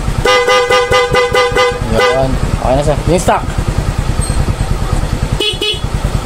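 A Yamaha Mio Gear motorcycle horn beeps in a rapid series of short honks, then a longer blast, over an idling engine, with someone talking briefly nearby.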